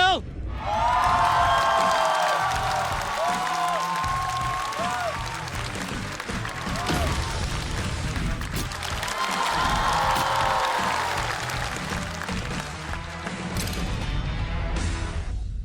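A live audience at a Chinese comedy competition show applauds as two teams are called onstage, a long burst of loud clapping with cheers and whoops, swelling and easing over a bright musical backing.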